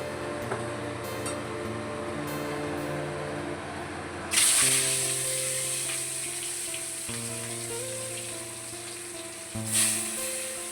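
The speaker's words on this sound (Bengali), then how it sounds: "এদিকে আমি তেল গরম করে নিয়েছি কড়াইয়ে, মাছগুলো ভাজবো এক এক করে।" Fish frying one piece at a time in hot oil in a wok, a steady hissing sizzle throughout that flares louder as each piece goes in, near and without talk.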